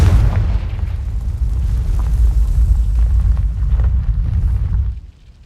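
Confringo blasting spell from Hogwarts Legacy going off as a heavy, booming explosion. It is loud and close, with a deep rumble that holds for about five seconds before cutting off sharply.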